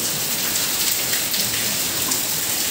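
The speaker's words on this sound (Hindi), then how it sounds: "इतनी तेज बारिश हो रही है ना कि बस ये हाल हो जा रहा है" Heavy rain pours down in a loud, dense, unbroken hiss, drumming steadily on surfaces close by with no break in intensity.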